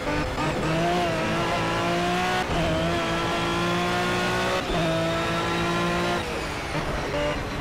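Race car engine from the video game Project CARS on PS4, revving loud and continuous with rising and falling pitch through gear changes, the engine note dominating throughout with no talk over it.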